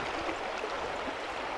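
River current rushing through shallow riffles on a brown trout stream, a soft, steady broadband gurgle and hiss heard alone with no voices, fairly quiet and even throughout.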